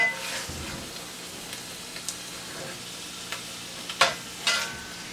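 Turkey meat loaf filling with spinach cooks in a pan, giving a quiet low sizzle broken by scattered clicks and scrapes, with a couple of louder utensil taps near the end.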